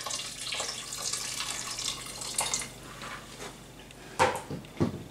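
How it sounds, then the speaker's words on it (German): Water poured from an electric kettle into an Instant Pot while cooking, a soft steady splashing stream over light kitchen noise, ending with a few sharper knocks and clatters. "Und ich gebe jetzt ein bisschen Wasser rein."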